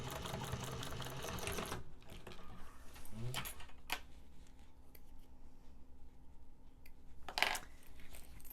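A sewing machine runs a second line of stitching on a fabric zippered wristlet: a fast, steady mechanical whir up close for almost two seconds, then quieter clicks, light handling noises and a few sharp snips.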